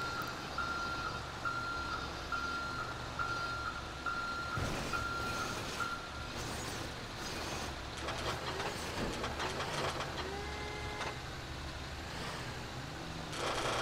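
A police Ford F-450 tow truck backs up in GTA 5, its reversing alarm beeping in a steady high-pitched rhythm for several seconds over engine rumble, followed by mechanical clunks and whirring from the wheel lift.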